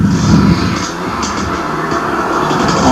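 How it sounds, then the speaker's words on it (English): A two-stroke enduro motorcycle labours on a rough trail spot in a 1987 mountain enduro, its engine droning and revving continuously, some distance away amid wind and ambient noise. "Sounds like a two-stroke."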